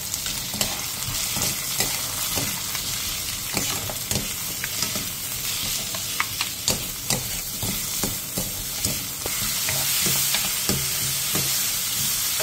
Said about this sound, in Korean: 팬에 기름을 두른 뒤 호박과 다진 마늘 반스푼, 소금 3분의 1스푼을 넣고 센 불에서 볶아주세요.